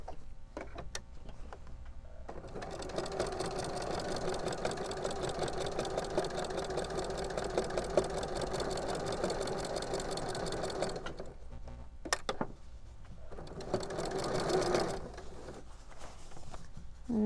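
A sewing machine stitches a fabric Christmas stocking, whirring steadily at a fast, even pace for about nine seconds, pausing, then running again briefly, close and clear with little else around it.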